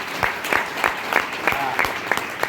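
Audience applause at a Hindi direct-selling business seminar: a steady, fairly close wash of clapping hands with regular louder bursts throughout, and no talk over it.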